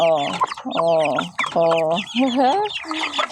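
Backyard chickens cluck and squawk loudly and close at feeding time over beans, several rapid calls overlapping in short bursts.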